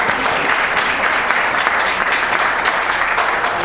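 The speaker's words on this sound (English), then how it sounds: "Let's give them a big round of applause." An audience at a city council meeting applauds, dense sustained clapping from many hands that stays loud and even throughout, with no speech over it.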